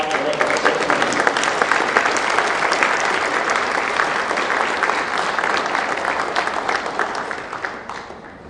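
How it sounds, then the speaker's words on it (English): Sustained applause from the audience at a Rotary Club of Denver meeting, dense and steady clapping lasting several seconds before slowly tapering at the end. "Let's give them all a round of applause."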